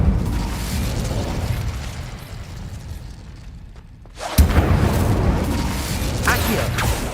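Incendio fire spell cast in Hogwarts Legacy: a muffled, dimmed stretch of ambience, then a sudden loud burst with a bright fiery whoosh that keeps crackling, with a few sharp pops afterward.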